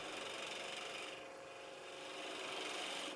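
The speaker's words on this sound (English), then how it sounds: "I just find it easier with the long cutting edge of a spindle gouge because I can reach in underneath the ring." A spindle gouge cutting a wooden ring on a lathe makes a continuous, rasping, scraping hiss that stays fairly even throughout, slightly quieter in the middle, close but low in level and with no talking.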